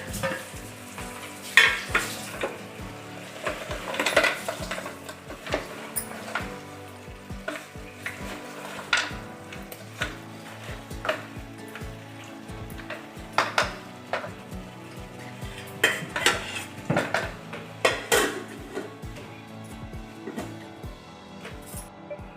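Tomatoes fry and get stirred in a pan for mutton paya curry: steady sizzling with repeated scraping stirs and occasional clinks of the spoon against the pot, close and fairly loud, with no talk.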